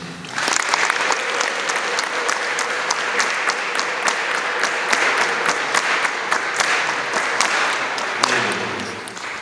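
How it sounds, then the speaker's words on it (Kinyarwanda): A crowd breaks into sustained, loud applause at a family celebration event, dense clapping rolling on for about nine seconds with scattered sharper claps standing out before it eases off. "Nabo mubahe amashyi."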